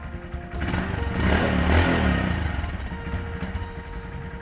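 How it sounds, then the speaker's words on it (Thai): A 2020 Honda Monkey motorcycle with its stock exhaust revs up, the engine note swelling to a loud peak and easing back to a steady run, close by and heard alone. "ผมมาฟังเสียงท่อเดิมกันเลย"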